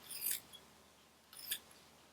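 Scissors snip through roe deer fur in two short, crisp cuts spaced about a second apart, close and quiet in an otherwise still room.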